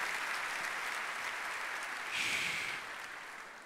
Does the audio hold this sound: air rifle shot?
no